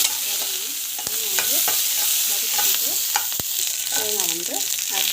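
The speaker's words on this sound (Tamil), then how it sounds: "ஸோ வெங்காயம் வந்து போட்டு நம்ம பார்த்திங்கன்னா மிளகாய் வந்து போட்டுக்கலாம்" Onion and chilli fry in hot oil with a continuous bright sizzle, while short clinks and scrapes of stirring and a few faint tonal squeaks sit on top of the steady hiss.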